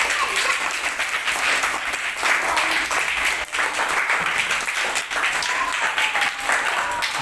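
Audience applause at a children's recitation event, dense and steady clapping from a crowd sustained throughout, fairly loud and close.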